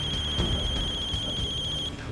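A mobile phone rings with a steady high electronic tone that pulses briefly, heard over rumbling background noise before cutting off near the end.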